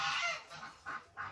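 Farm geese and other poultry calling in a few short honking bursts, near and moderately loud, with no voices over them.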